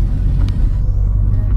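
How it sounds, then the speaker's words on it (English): A 2016 Ford Focus all-wheel-drive car accelerating, heard as a deep, loud, steady engine rumble with low throaty tones and slight rise across a short burst. "The car accelerates very quickly"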